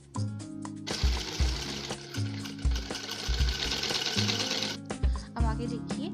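A sewing machine stitches gota trim onto a small net dress for a Laddu Gopal idol, whirring in short bursts and then in one long continuous run, close and clear.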